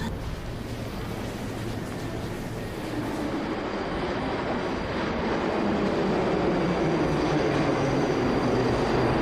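Metro train rumbling through a Russian subway station, a steady loud roar of wheels and carriages that swells slightly in the second half, with no talk over it.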